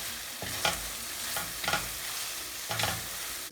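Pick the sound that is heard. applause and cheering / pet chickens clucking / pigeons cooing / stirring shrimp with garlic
stirring shrimp with garlic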